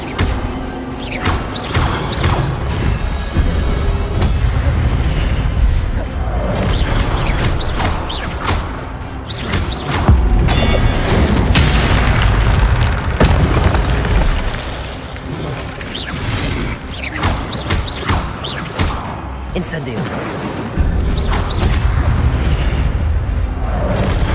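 Fire spells cast in the wizarding game Hogwarts Legacy burst out repeatedly over a continuous rumbling combat bed, with loud whooshing flares and crashing impacts recurring every few seconds.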